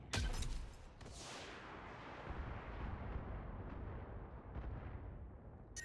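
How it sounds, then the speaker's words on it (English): Loud volleys of missile fire from a mech in BattleTech, sharp launch bursts followed by a sustained booming, rumbling roar that stays dense and heavy for several seconds, with another burst near the end. "Go ahead and turn off the medium lasers and fire."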